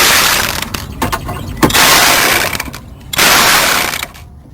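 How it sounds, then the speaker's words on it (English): A ratchet tightens bolts on a Chrysler 200 radiator, giving close, loud bursts of rapid metallic clicking separated by brief pauses, with no talking. "now you want to tighten up all the bolts"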